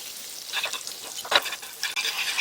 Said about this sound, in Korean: 자, 이제 버터랑 식용유가 같이 섞일 수 있게 충분히 녹여주세요.